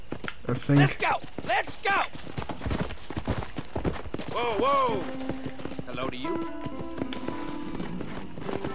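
Horse hooves clip-clop in a video game, a steady trotting patter up front early on, mixed with game effects, music tones and a character's short spoken lines.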